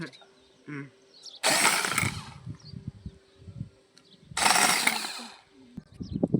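A toy tractor built from PVC pipe, modelled on a Mahindra Arjun, cranks and roars to life twice in loud, rough bursts, each lasting about a second, with quieter pauses and a faint voice between them.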